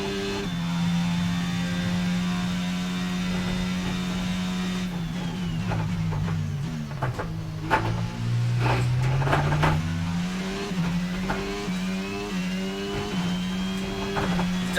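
A Ferrari-powered Formula 1 car engine in the video game F1 22, a high sustained whine that drops through downshifts mid-clip, then climbs back through rising gear changes, loud and steady without speech.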